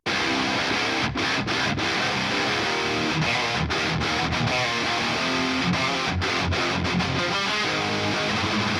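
Four quad-tracked heavy metal guitar performances, blended through two impulse responses, churn out a thick, saturated riff that stays loud and steady, broken by short, tight rhythmic stops.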